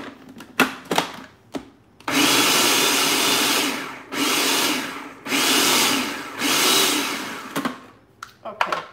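A food processor grinds chimichurri with capers and herbs, three long steady whirring bursts separated by short pauses, loud and close, with a few clunks of handling before and after.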